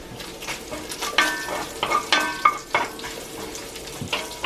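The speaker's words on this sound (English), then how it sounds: "Bacon is crisping up." Bacon crisping in a cast iron pan, with a constant close sizzle broken by sharp scraping and clinking strokes of a utensil against the iron, alone without talk.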